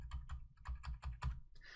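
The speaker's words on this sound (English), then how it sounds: "So that's just using the arrow keys." Computer keyboard arrow keys are tapped about eight times in quick, even succession, close and fairly quiet, with no talking.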